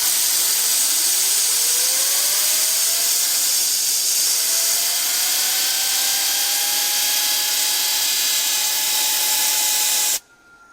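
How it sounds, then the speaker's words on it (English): A 12 volt reciprocating mechanism runs as a test load on a turbine prototype setup. It gives a steady loud hiss with a whine that climbs in pitch and then holds, running for about ten seconds before cutting off abruptly. "to test a load, I'm going to put this reciprocating mechanism."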